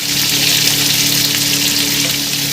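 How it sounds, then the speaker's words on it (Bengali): Gurjali fish fry together in hot oil, a loud, dense and continuous sizzle heard close up with a faint steady hum beneath and no voices. "দেখুন আমি সবকটা মাছ একসঙ্গে ছেড়ে দিয়েছি।"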